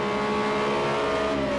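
Cars in a 2018 FIA GT3 racing video game accelerating toward turn 1, producing a steady, loud engine drone with a sustained tonal whine that runs through the whole short stretch, with no voices.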